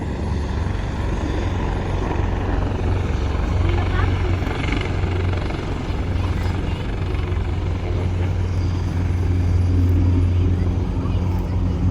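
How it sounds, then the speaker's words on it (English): A military helicopter lifts off at an air force open day after dropping off troops, its loud, steady rotor and engine roar filling the scene continuously, with voices of a crowd faintly underneath. "The helicopter just dropped off a bunch of troops and has taken off again."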